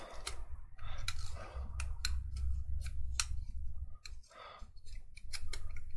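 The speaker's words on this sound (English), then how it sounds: "just to test if they are really strong, I will try to, let's see, to cut them." Scissors snip through glued cardboard pieces in a series of sharp, close crunching cuts with short pauses between them, no talking.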